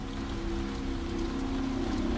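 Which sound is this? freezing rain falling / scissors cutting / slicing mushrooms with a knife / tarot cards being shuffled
freezing rain falling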